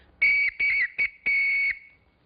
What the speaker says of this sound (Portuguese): um apito de criança, um apito de plástico.